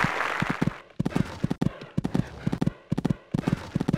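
Galloping horse hooves in the Equestriad 2001 video game, a steady clip-clop of rapid hoof strikes in rhythmic clusters of three or four beats, close and clear with no voices.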